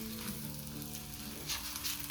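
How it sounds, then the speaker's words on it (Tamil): Sizzling and frying as a potato-stuffed aloo paratha is laid in a hot pan, with a steady crackle of hot oil and a few brief louder spits, close by and alone. "பாருங்க இந்த செந்த நம்ம சப்பாத்தியை இதில் போடுறோம்"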